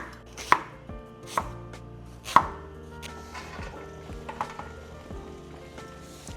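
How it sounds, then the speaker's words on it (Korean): Sharp knife chops on a cutting board as vegetables are sliced thin on the diagonal for Korean naengmyeon broth, a few loud isolated strikes then softer scattered cuts, with a faint steady hum behind. "썰 때는 어슷 써는데 굉장히 얇게 썰어주세요."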